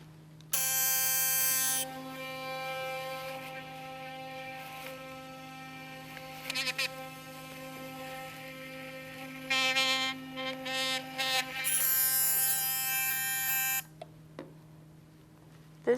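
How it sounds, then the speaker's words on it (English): An electric triple-bristle toothbrush buzzes steadily for about thirteen seconds, a close, continuous hum whose tone wavers slightly as the head presses against each tooth, then cuts off, leaving faint background noise. "To use this toothbrush, we recommend starting at one corner of the mouth and placing it on each tooth for 2 to 3 seconds"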